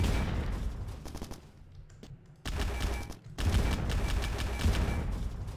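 Rapid gunfire in the sci-fi shooter game Bad Bots, long loud bursts of repeated shots broken by a brief pause, then resuming as continuous firing.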